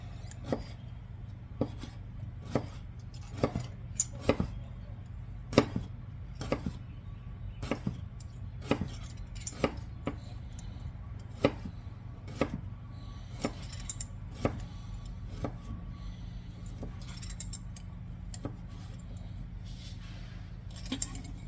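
A knife chopping salad ingredients such as hard-cooked eggs and radishes on a cutting board, with steady sharp taps repeating about every second, close and fairly quiet over a low background hum, no voices.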